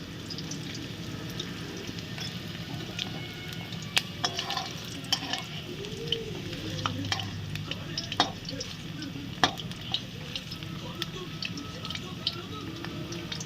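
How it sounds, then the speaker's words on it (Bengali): Chicken pieces frying on high flame give a steady, close sizzle with scattered pops and stirring clatter throughout, at moderate loudness. "এবার করার সময় আমরা এটাকে হাই ফ্লেমে করে দিচ্ছি। সামান্য একটু লাল লাল করে ভেজে নেব"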